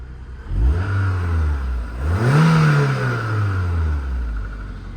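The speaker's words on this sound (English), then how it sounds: "Give it a very, very quick rev" A 2002 MG TF 135 mid-engined sports car idles, then gives one quick rev that climbs and falls back to a steady idle, heard close up and loud with no talk.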